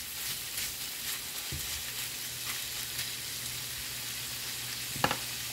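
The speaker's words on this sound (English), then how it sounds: "I'm just going to saute these until they are a light brown." Smoked turkey sausage sautéing in a pan for yaka mein soup, a steady soft sizzle and fry with a faint stir and a small clink near the end.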